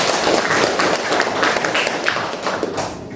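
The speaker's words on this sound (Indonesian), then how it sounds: "Tepuk tangan lagi." Students in a classroom clap together in a loud, busy burst of hand claps close by, continuing steadily for a few seconds before tapering at the end.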